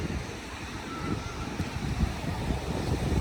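Surf washes steadily onto a clean white-sand beach, a continuous low rush of breaking waves with some wind buffeting the microphone and no talking.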